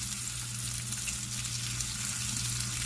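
Sausage and potato pieces fry in a skillet, giving a steady close sizzle and crackle of hot oil with small popping bursts, running without a break and with no voices.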